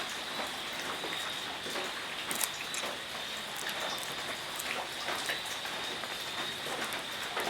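Steady rain falls in a dense, even patter of drops on surfaces, moderately loud and continuous, with no talking.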